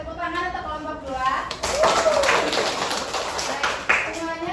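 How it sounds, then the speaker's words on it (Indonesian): A group of pupils in a classroom guidance lesson bursts into a few seconds of applause for another group, with voices talking before and after the clapping. "Saya tepuk tangan untuk kelompok 2."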